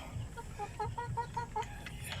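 Month-old Rhode Island Red chicks cluck softly on a range, a quick run of about eight short evenly spaced clucks under faint background noise, fairly quiet and close.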